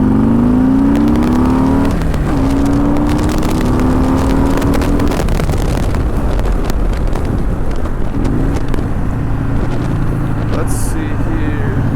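A Harley-Davidson Softail Sport Glide with a Stage II upgrade pulls away in second gear from about 20 mph, its V-twin rumble rising in pitch while steady wind roar rushes past the microphone.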